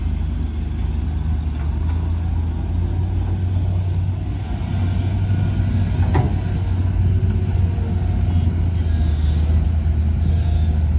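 Excavator engine revving hard while the bucket scoops, a loud continuous low rumble with steady throttle, close by and without speech.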